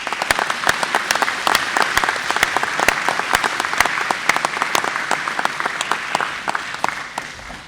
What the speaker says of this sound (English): So maybe we could give everybody a big round of applause.